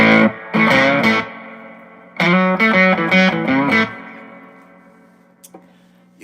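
Electric guitar played through an amp's onboard reverb gives two bursts of distorted chords, a short phrase and then a longer strummed run. Each burst rings out and decays slowly into a reverb tail, with a couple of faint plucks near the end.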